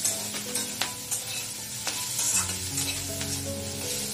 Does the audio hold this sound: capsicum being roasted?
yes